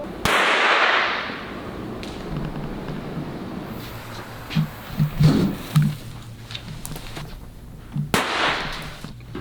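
Small explosive charge detonated outdoors, a sharp loud blast at the start with a decaying rumbling tail, followed by scattered knocks and a second sharp crack near the end.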